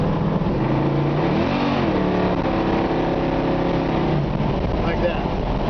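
A 1970 Camaro with a 454 big-block V8 accelerates hard under kick-down, its loud engine note climbing in pitch, then holding a steady drone inside the car.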